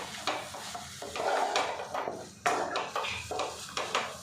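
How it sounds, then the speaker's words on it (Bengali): Papaya cooking with sugar is stirred in a pan, the spoon scraping and clacking against the metal in repeated close strokes over a soft sizzle, with no voices. "আরও কিছুক্ষণ নাড়াচাড়া করে নেব।"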